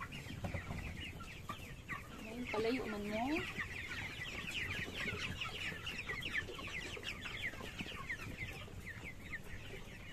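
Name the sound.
broiler chickens clucking on a chicken farm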